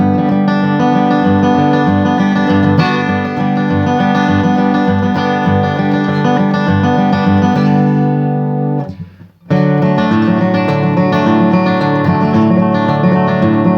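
Bluegrass-style acoustic guitar mixing crosspicked arpeggios with strummed chords, a dense, continuous ringing stream of picked notes played loud and close, briefly cut off near the end before resuming, with no talking.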